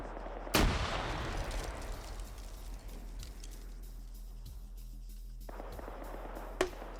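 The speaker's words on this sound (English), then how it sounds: "immediately gets gunned down because this is the Delta Medium Machine Gun Group" Gunfire in a PvP video game erupts with one loud, sharp blast, then rapid shots crackle on under a steady rumbling bed of battlefield noise, with a second brief crack near the end.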